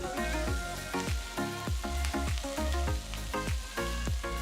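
Dense, rapid crackling and popping of mustard seeds spluttering in hot oil, steady and close, with sharp bursts repeating throughout and no voices.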